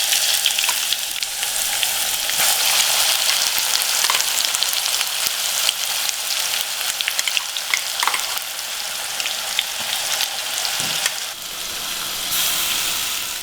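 Garlic and chili paste frying in oil in a pan over a medium flame, a steady, close, dense sizzle and crackle with occasional stirring scrapes, continuous throughout with no talking.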